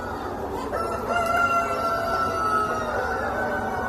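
A rooster crows once in a long, drawn-out call over a dull background hum, fairly close and loud.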